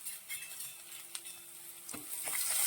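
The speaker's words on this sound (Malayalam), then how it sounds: "ഇതിലേക്ക് നമ്മൾ അരിഞ്ഞു വെച്ചിരിക്കുന്ന വെളുത്തുള്ളി, ഇഞ്ചി ചോപ്പ് ചെയ്ത ഒരു കഷ്ണം ഇതിട്ട് നന്നായിട്ട് വഴറ്റിയെടുക്കണം." Chopped garlic and ginger sautéing in a hot pan for a fish curry, with a steady sizzle, soft scraping stirs and a couple of light metallic clinks near the end, close and fairly quiet with no talking.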